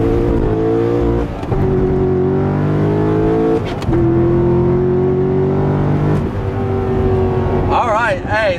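A car engine with a Stage 2 cam rumbles loudly up close, revving in long pulls that climb in pitch, with brief dips between gears and a squeal near the end.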